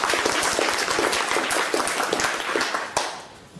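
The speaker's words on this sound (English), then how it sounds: "if we could give her a big round of applause." A crowd at the Goodlab SW Sustainable Futures event applauds a speaker, a lively burst of many hands clapping, close and full at first, then thinning and fading out toward the end.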